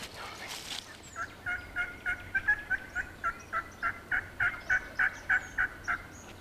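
A wild turkey gobbles repeatedly in the distance, a faint but steady run of rattling calls, one gobble after another, across an open clearing, with no other sounds competing.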